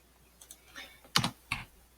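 Several keystrokes on a computer keyboard as a Control X cut shortcut is typed. There are a few light taps, then two sharper, louder clacks close together, heard up close.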